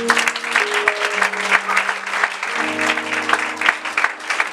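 A church congregation applauding during a French-language service, steady clapping throughout with a sustained organ or keyboard chord underneath; no talk.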